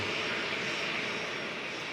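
EasyJet airliner landing at Liverpool, a steady broad roar of aircraft engines, moderately loud and continuous with no voices.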